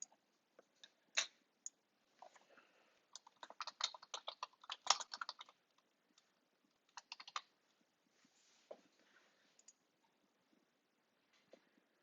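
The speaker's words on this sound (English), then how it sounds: "let me type this out here" Typing on a computer keyboard, close and crisp, with scattered single clicks building into a quick burst of keystrokes mid-way, then sparse taps trailing off amid silence.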